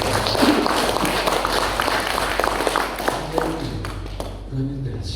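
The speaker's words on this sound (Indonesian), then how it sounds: "Mari tepuk tangan bagi Tuhan." A church congregation applauding during a sermon: a sustained patter of many hands clapping in a room, moderately loud, with a voice speaking over it before the clapping fades.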